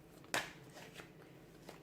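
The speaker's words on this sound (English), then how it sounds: "give the cards a shuffle" Tarot cards shuffled in the hands, one quick sharp riffle followed by a few soft, faint flicks and taps, quiet and up close.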